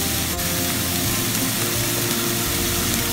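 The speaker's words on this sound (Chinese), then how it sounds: "牛肉用个镬铲一散它，落埋啲冬菇" Beef and shiitake mushrooms stir-fried in a wok with a metal spatula; a steady, close sizzle fills the whole stretch with faint scraping and no voices.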